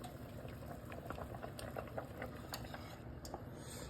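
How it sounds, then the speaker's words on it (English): A pot of potato soup simmers steadily, a continuous low bubbling and gentle popping at moderate closeness with no voices. "we let that simmer for about 10 more minutes"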